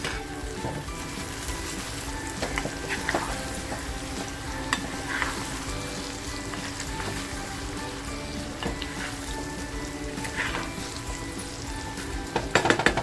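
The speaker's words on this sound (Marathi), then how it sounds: "थोडंसं हलवून घेते भाजी मंद आचेवर" Spiced potato slices sizzle steadily in a pan over low heat while a spatula occasionally stirs and scrapes them, a close, even crackle running throughout.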